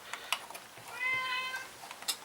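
A cat gives a single clear, drawn-out meow close by, framed by soft clicks and taps from work on an Xbox 360 power supply, with no talking.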